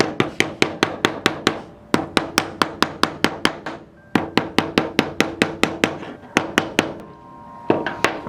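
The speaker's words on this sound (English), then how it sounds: "Hammer again, boy!" Loud, close hammer blows driving nails into wood on a Lowe's Build and Grow castle kit, quick runs of evenly spaced strikes separated by brief pauses.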